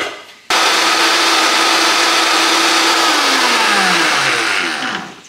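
A blender grinds a smoothie of frozen strawberries, its motor kicking in abruptly and running at a loud, steady whir, the pitch sagging slightly as the fruit loads the blades before it winds down.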